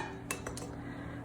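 Metal strainer used as a sifter for all-purpose flour, tapped and shaken with faint light metallic clinks, a few quick taps close by under a quiet kitchen background.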